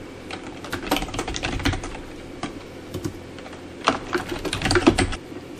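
Typing on a computer keyboard while entering a blog post title and article text in WordPress, with bursts of close, clattering keystrokes separated by short pauses, no talking.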